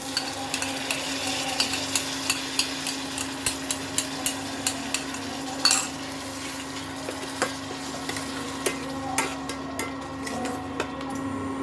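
Tomato paste is stirred into frying onion, ginger and garlic in a pan for a Bengali coconut prawn dish. A continuous sizzle runs under regular, close spatula knocks against the pan, roughly every half second, and no one speaks.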